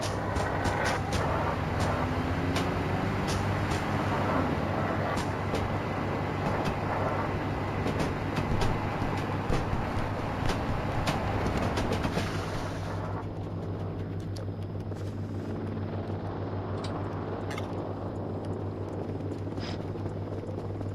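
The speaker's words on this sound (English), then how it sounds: "here's their sound dampening on the drone in effect" A drone in the game Voices of the Void gives off a steady mechanical hum with rattling ticks. Partway through, sound dampening drops it to a quieter, muffled drone.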